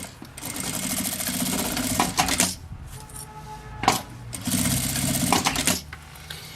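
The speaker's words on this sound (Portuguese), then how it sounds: "Vou passar uma costura ali na pontinha da alça pra segurar ela." Sewing machine running in two long stitching bursts with a short pause and a brief clack between them, close and steady, sewing the end of a strap on a vintage-style handbag.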